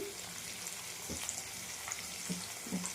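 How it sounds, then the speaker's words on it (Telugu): Sliced onions with a pinch of salt fry in a pan, a soft, quiet, continuous sizzle broken by a few light stirring scrapes. "ఫ్రై చేస్తే ఉల్లిపాయలు కొంచెం తొందరగా మగ్గుతాయి."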